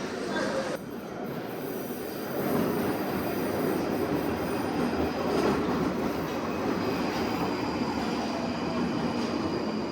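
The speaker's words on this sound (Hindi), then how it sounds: "जैसे डीजल इंजन की ट्रेन चल रही है।" A train rumbling and screeching along the rails at Charing Cross station in London, a steady, moderately loud roll with wheel squeal and faint clatter throughout, plus a faint murmur of voices.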